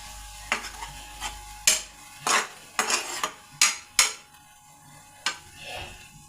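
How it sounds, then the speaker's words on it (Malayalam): A spoon stirs tender jackfruit thoran with turmeric and curry leaves in a pan. Irregular scraping strokes sit over a faint sizzle, with occasional clinks of utensil on metal. "ഒന്ന് ഇളക്കട്ടെ"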